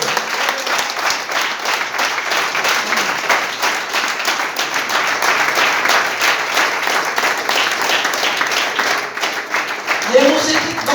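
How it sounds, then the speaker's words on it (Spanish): A church congregation at an evening service applauds in a loud, sustained burst of dense clapping that fills the whole stretch, with voices mixed in. "Den un aplauso al que vive."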